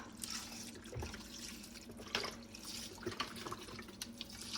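Soft steady trickle of broth being poured into a pot, faint and continuous with small splashes and drips throughout.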